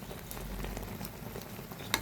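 A spatula scrapes and stirs food in a hot pan over a soft continuous sizzle, with a louder clink near the end and no talking.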